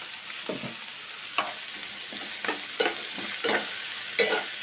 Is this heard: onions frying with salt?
yes